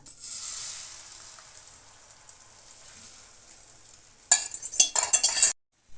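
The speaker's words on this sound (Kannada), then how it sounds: "ನಮಗೆ ತವನು ಕಾದಿದೆ ನಾವು ಏನು ರೆಡಿ ಮಾಡ್ಕೊಂಡಿದ್ದೀವೋ ಮೊಟ್ಟೆನ ಹಾಕಿಬಿಡೋಣ" An egg dropped into hot oil on a heated pan sends up a sudden loud, crackling sizzle with sharp spitting pops. The noise bursts out after a quiet stretch and stops abruptly.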